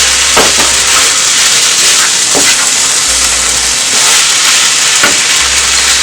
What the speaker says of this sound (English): I'm adding salt to the stir fry.